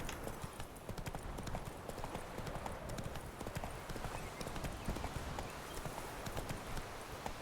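Hooves of Roach, Geralt's horse in the video game The Witcher 3, clip-clop in a quick steady rhythm throughout, close and continuous over quiet game ambience.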